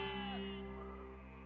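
Sheep bleating from a herd in a hillside story setting, a single sustained, wavering bleat close and clear over a quiet background.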